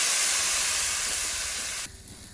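Water poured into a hot pan of bean and potato curry gives a loud, close steam hiss that fades slightly, then cuts off abruptly.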